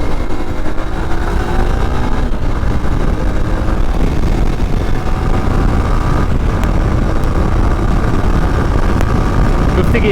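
A Hero Xpulse 200 4V motorcycle starts and rides, its engine droning steadily and loudly throughout with rising tonal whine as it accelerates, mixed with wind and road noise.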